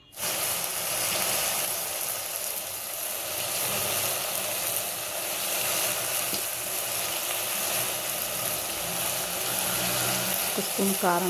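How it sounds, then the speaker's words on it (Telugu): Cut eggplant and potato pieces fry in a pan with a steady, close sizzle that carries on evenly throughout, joined by faint stirring near the end. "కట్ చేసుకున్న వంకాయలు, ఆలుగడ్డ వేసి కొంచెం వేగేదాకా ఉంచి కలుపుకోవాలి"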